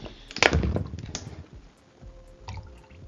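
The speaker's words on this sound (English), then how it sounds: "This has turned into an ASMR video on pouring water." Water pours into a bottle indoors in a few short bursts, with a louder splash near the start and softer trickling and drips afterward, close and quiet with no talking.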